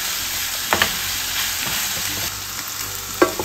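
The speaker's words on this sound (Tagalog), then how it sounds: "Para habang umaatas yung mantika, nagigisa po yung sibuyas, di ba? At kamatis sa other side." Onion and tomato sauté in oil in a pan, giving a steady close sizzle with occasional stirring scrapes and no talking.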